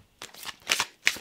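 Tarot cards being shuffled by hand, heard as three quick papery riffling bursts, close and fairly crisp, separated by brief gaps.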